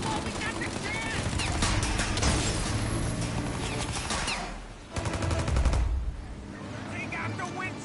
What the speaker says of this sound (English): Shoot out your gun when there's a break in the fire!